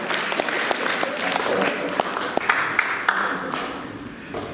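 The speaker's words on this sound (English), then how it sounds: "Give him a round of applause as well" A church congregation gives a round of applause during a Sunday service, a moderate, sustained patter of many hands with a few sharp individual claps standing out and a voice faintly beneath, fading slightly at the end.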